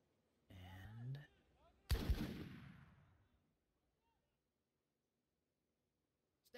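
Gunfire in the video game Full Spectrum Warrior, two bursts of loud weapon fire, the second a sharp blast with a decaying rumbling tail, then near silence.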